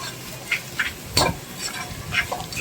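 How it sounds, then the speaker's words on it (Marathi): Onion and chopped green chili sautéing in a pan for a quick Marathi-style vegetable dish, with soft scraping stir strokes at a steady pace and a faint sizzle beneath, close and fairly quiet. "मिरची कांदा कापून घातला, थोडंसं परतला."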